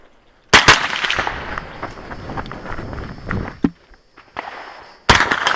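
Sharp gunshot reports from a pistol caliber carbine at a shooting match ring out outdoors, with a loud volley at the start, scattered quieter shots in the middle and another loud burst at the end.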